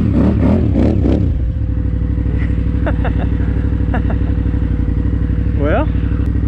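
A KTM 990R motorcycle climbs a washed-out single-track trail, its engine loud and close with a steady thrumming note, rough clattering over the ground and short revs rising near the end.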